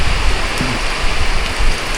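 Heavy rain pours steadily in a rural spot, a dense continuous broadband wash with low rumbling patter, loud and close throughout with no voices.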